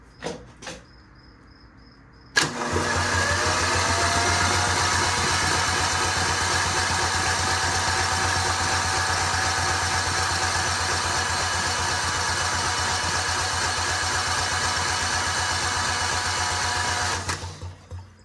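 A seized Mighty Mac 8c skid steer engine cranks over steadily after a short pause, a loud, continuous mechanical churn with a low rhythmic pulse that runs for about fifteen seconds before cutting off.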